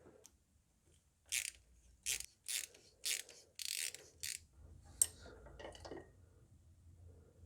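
High pressure fuel pump being unclipped and disconnected from a Mercedes W176 engine with the fuel line clamped: a run of six or seven sharp, close plastic-and-metal clicks and ratcheting snaps, followed by softer handling rattles.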